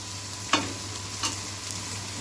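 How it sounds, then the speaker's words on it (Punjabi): Sun-dried lentil vadi fry in tempering oil for a pumpkin dish, giving a steady, quiet sizzle with two brief stirring scrapes close by. "ਹੁਣ ਇਹਨੂੰ ਤੜਕੇ 'ਚ ਆਪਾਂ ਪਹਿਲਾਂ ਭੁੰਨ ਲਾਂਗੇ"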